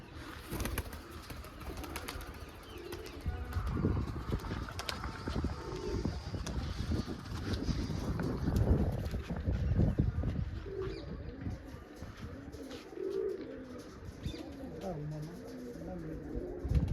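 Soft, low pigeon coos repeat over a busy outdoor background, with scattered chirps and some muffled voices nearby.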